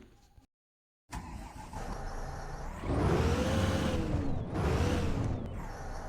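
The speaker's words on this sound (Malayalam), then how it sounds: "ഇതാണ് നമ്മുടെ വണ്ടിയുടെ എക്സോസ്റ്റും കാര്യങ്ങളൊക്കെ" A Bharat Benz vehicle in a driving video game runs its engine, starting after a brief silence, then droning steadily and swelling twice into louder rising revs, close and loud with no voices.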